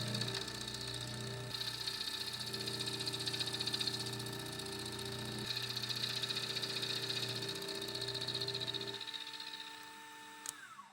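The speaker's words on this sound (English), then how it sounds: "I'm going to machine a groove down the center" A milling machine cutting a groove down the center of a metal railroad truck part for a Pennsylvania A3 switcher model hums steadily with a whining, rattling tone, then the motor cuts off and spins down near the end.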